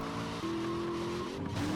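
A car in GTA Liberty City Stories drives hard with loud, steady tire squeal and engine drone running continuously up close.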